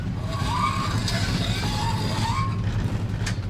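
The engine of a 1966 Ford wagon runs loaded in drive against the brakes, giving a steady, loud low rumble throughout with a faint whine above it and no talk.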